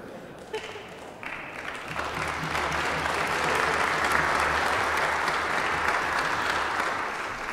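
A Catholic congregation at a Mass honoring the beatification of Father Michael McGivney breaks into applause, starting thin and swelling into a dense, steady wash of clapping that fills the church.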